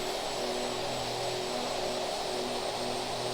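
The Aerosoft OV-10 Bronco in FSX runs its engines up for takeoff, a loud, steady broadband propeller roar with a constant droning hum, unchanging and alone throughout.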